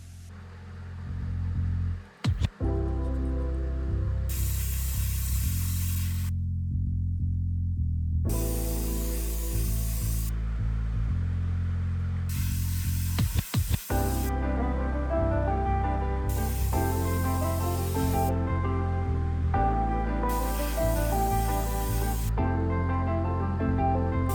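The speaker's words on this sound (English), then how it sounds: "Let me spray on these primed teaspoons to show you how they look" SMS premium acrylic lacquer paint is sprayed onto primed teaspoons in repeated bursts of hissing spray, each lasting a few seconds with short gaps between them, over steady background music.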